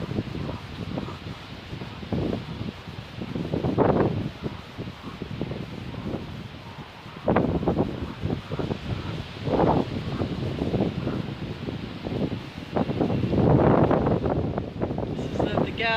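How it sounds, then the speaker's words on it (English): Strong wind gusts through a back garden, roaring against the microphone in surging waves that rise and fall, with rustling under the blasts and no clear talking. "I just wanted to share this wind"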